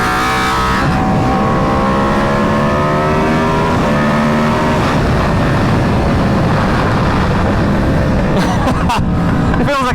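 An Aprilia RSV4 motorcycle with a 520 chain conversion, its engine loud and close, revving and pulling up through rising tones over steady wind rush while riding.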